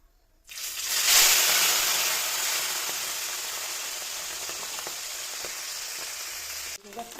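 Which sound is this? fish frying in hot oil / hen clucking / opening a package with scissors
fish frying in hot oil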